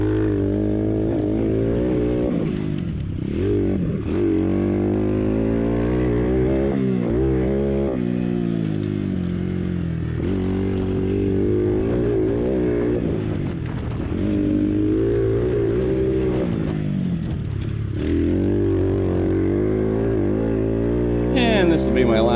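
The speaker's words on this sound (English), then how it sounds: "And there's that rev limiter I was talking about." A modded XPRO 150 DLX pit bike rides a turn track, its engine droning loud and close. Revs climb and dip repeatedly and the engine bounces off the rev limiter for long stretches.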